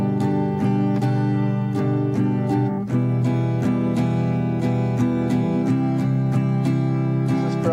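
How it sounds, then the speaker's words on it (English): Acoustic guitar strummed in a common down-up pattern, even rhythmic strokes ringing full chords close and loud, with a brief dip partway through before the pattern resumes. "This is probably the most used strum in guitar history"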